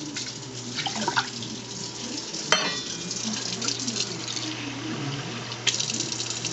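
Water poured from a tap into a cooking pan for medium-grain steamed rice, a steady close splashing stream with a few sharper clinks and surges as the flow shifts.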